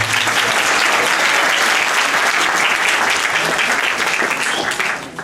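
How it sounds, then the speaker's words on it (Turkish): A crowd at a university vocational school gathering bursts into sustained applause, dense and even from start to finish, then begins to fade in the final moment. "müdür yardımcılarımıza da bir alkış rica ediyorum"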